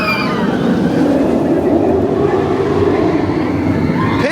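The Nemesis roller coaster at Alton Towers gives off a loud, steady, dense roar, a continuous rumbling rush that holds strong throughout.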